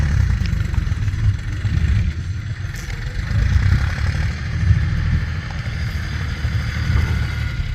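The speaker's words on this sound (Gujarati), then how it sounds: "આ આપણે છે ને મજાનું ઝીણકું કોલું છે એન્જિન જ" A small petrol engine powering a little sugarcane crusher runs nearby in a village, a steady low rumbling drone with no speech.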